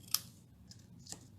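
Two crisp snips of scissors cutting paper on an angle while stamping, a sharp cut near the start and a second about a second later, close and quiet.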